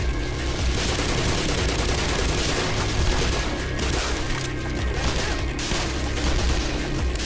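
Gunfire in the Black Mesa video game: dense, loud, continuous bursts of shots and impacts rattling without pause in a heavy combat exchange.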